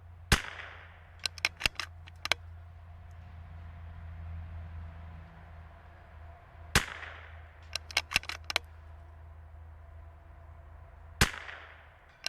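A precision rimfire rifle fires at steel targets 130 yards out: three sharp, close shots spaced several seconds apart, each followed by a series of faint metallic pings and clanks from the targets over a low steady hum.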